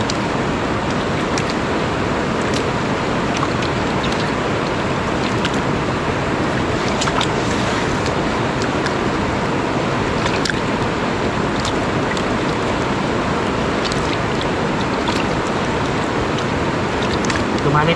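Small water pump running steadily beside a river during gold panning, a continuous broadband drone mixed with rushing water, constant and fairly loud throughout with no clear breaks.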